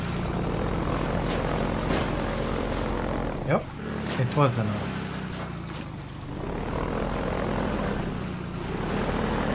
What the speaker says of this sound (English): Apparently we kinda lost that helicopter